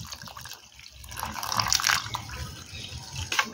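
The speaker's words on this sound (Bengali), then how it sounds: "আর দেব পরিমাণ মতো জল।" Water is poured into a mango drink mixture of roasted cumin powder and sugar, a steady close liquid splash that swells slightly in the middle.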